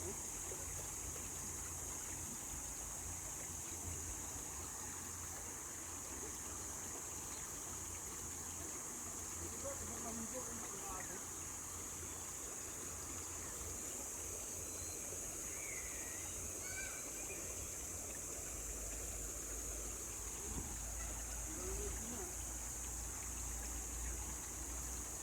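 River water flowing over large rocks at a bathing spot on the Bilad Bilad river in Norzagaray, Bulacan, heard as a constant broadband rush with faint distant voices mixed in.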